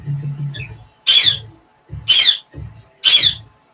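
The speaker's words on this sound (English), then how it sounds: "Oh, bird, stop." A pet bird lets out three loud, harsh squawks spaced about a second apart, close to the microphone, with a brief low hum before the first.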